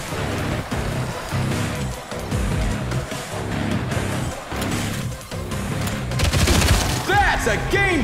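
Gunfire in the Showgunners video game, with rapid volleys of shots and booms layered over a dense, continuous wash of combat noise, with a voice talking over part of it.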